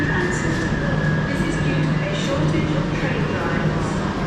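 Class 321 electric train at London Liverpool Street station, a steady droning motor hum with a faint high whine and low rumble, continuous and fairly close, with station ambience and no clear voices.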